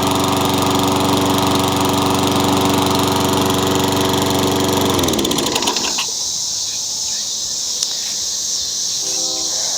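A Craftsman lawn mower assembled from mixed parts runs loud and steady at close range, a dense droning engine note, then abruptly cuts off about five seconds in, leaving quieter background noise.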